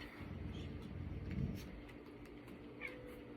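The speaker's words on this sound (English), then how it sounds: "So I got a cat, and the dog does not like this cat in here." A house cat gives a short, faint meow against a steady background hum, brief and fairly distant, with no talking.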